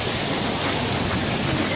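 Waves wash in a steady, broad roar at Pariaman beach, loud and continuous, with no voices.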